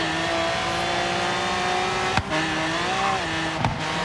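A car in Forza Horizon 3 races with a loud, sustained engine drone that shifts pitch slightly. Two brief sharp bumps or gear changes break in, with no talk over it.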